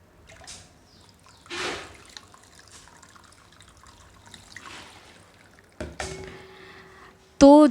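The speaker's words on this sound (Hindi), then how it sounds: "तो मैं पानी डाल देती हूँ सर पे।" Water is poured over a person's head during a heat therapy session, heard as intermittent splashes and soft trickles and drips, closing with a sudden loud burst.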